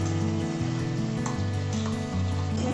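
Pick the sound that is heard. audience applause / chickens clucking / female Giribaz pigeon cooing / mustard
mustard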